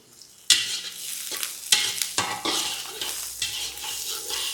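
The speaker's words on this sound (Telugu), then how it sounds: "ఇక మామిడికాయల ముక్కలు కూడా ఆయిల్లో కాస్త మగ్గాలి" Thin-cut raw mango pieces fry in oil for a mango dal, with a continuous sizzle broken by sharp scrapes and clinks of a metal spoon stirring the pan, no voices.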